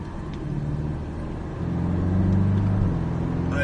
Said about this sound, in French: On va vraiment utiliser tout le régime moteur